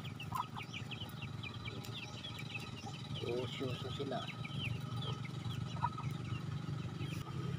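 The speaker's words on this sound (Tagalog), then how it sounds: "nandito na yung mga alaga naming manok" Chickens cluck and murmur softly in a noisy outdoor setting, with brief speech in the background.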